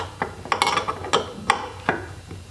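A lag screw being turned with a ratcheting tool on a gearbox test stand, a close series of sharp metallic clicks and clacks in an uneven rhythm.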